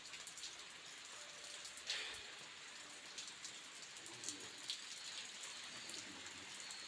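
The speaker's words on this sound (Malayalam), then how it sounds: "നല്ല മഴ." Heavy rain falls outside a village home in a soft, distant, steady patter, with a few louder drips breaking through now and then.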